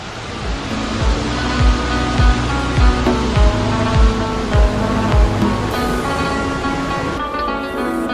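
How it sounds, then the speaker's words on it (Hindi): Rushing water roars on continuously near a rocky trail by a waterfall, a dense steady hiss carrying regular low thudding pulses through the middle. "यहाँ पे पानी का शोर ऐसा था जैसे 90s के टीवी में सिग्नल चले गए हों।"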